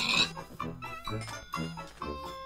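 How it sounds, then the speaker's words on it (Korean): Pig sounds from Minecraft with the Ars Magica mod: a few short grunting oinks in quick succession alongside bright chiming game tones, heard close and moderately loud with no talking. "아니 뭐 돼지가 여기까지 도망갔어"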